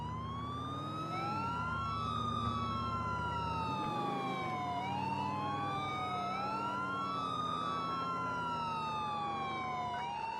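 An emergency siren wails continuously and loudly, its pitch sweeping up and down in repeating cycles over a steady engine drone.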